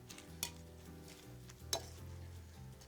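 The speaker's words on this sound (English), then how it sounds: "Give this a quick little stir here." Brie grilled cheese stirred in a pan, a soft low sizzle with two brief utensil clinks against the pan, quiet and close.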